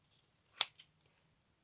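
Scissors snipping through card on a work surface, one sharp, close cut followed by a softer second snip, otherwise quiet.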